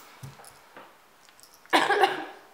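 A single harsh, close cough bursts out after a few faint, scattered small noises, ringing briefly before fading.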